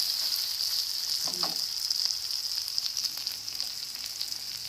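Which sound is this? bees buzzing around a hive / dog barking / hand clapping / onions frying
onions frying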